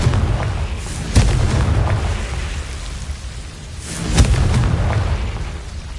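A fire spell explodes in Hogwarts Legacy, a video game, with two sharp booming blasts a few seconds apart over a dense, rumbling wash of ambient noise.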